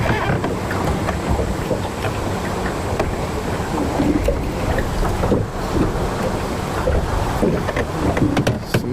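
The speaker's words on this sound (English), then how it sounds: "I'm pretty much just doing circles around my indicator right now with the trolling motor" Boat trolling motor running steadily while a fishing boat circles a bobber on open water, a continuous low hum mixed with wind buffeting the microphone and lapping water throughout.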